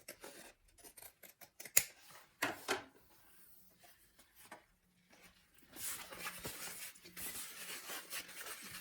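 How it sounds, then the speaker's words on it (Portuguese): Pinking shears snipping through fabric for a sewn bag, a run of close, crisp cutting strokes in quick bursts, then a steadier stretch of rustling and snipping as the cloth is handled. "Em seguida, com uma tesoura de picotar,"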